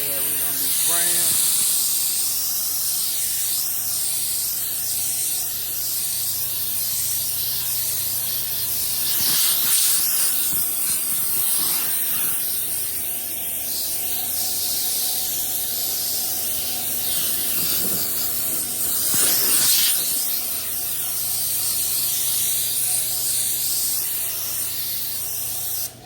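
A spray gun lays blueberry candy paint onto a 1984 Chevrolet C10 in a booth with fans running, giving a steady loud hiss throughout with brief bursts of stronger spraying.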